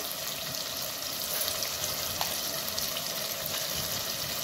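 Chopped onion fries steadily in hot oil after ginger-garlic paste has gone in, giving a dense, even hiss throughout with a few faint clinks and no voices.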